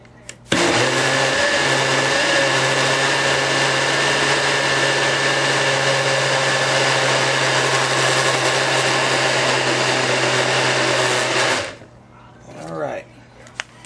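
A NutriBlast blender whirs continuously at high speed while blending a smoothie, loud and steady for about eleven seconds before cutting off, followed by faint handling sounds.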